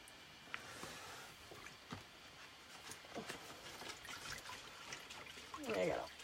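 Water trickles and drips as a chalk transfer screen is lifted out of a water bath, quiet splashy dribbles scattered across the moment and swelling briefly near the end.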